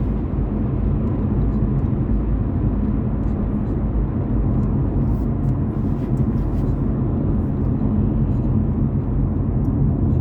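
Dacia Duster with a 1332 cc four-cylinder petrol engine cruising at 40 mph in 5th gear: a steady, smooth low engine drone and road rumble that stays loud and constant throughout, with no talk over it.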